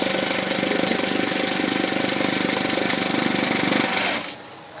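A small money counting machine runs with a loud, steady whirring rattle of rapidly fed banknotes, close and continuous for about four seconds before winding down, no voices.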